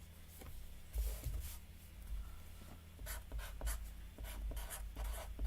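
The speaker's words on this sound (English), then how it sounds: "Let me write that down." Pen or pencil writing a sentence by hand on paper, close and clear, with scratchy strokes coming in short bursts and pauses, no talking.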